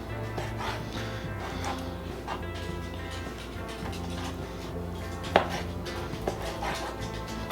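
Grilled chicken being cut into strips with a knife on a board, a series of muffled cuts and taps spread through the stretch, with a sharper knock or two near the end over a low background hum.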